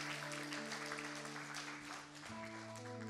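Congregation clapping together at a Manila church worship service, a steady wash of applause over sustained organ or keyboard chords, continuous and fairly full throughout.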